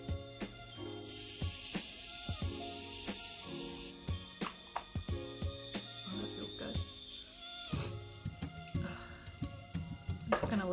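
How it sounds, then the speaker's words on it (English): A steady fine hiss of Morphe Continuous Setting Mist sprayed onto a face runs for about three seconds, followed by sharp clicks, taps and handling noises close by. "I'm going to spray my face with the Morphe Continuous Setting Mist."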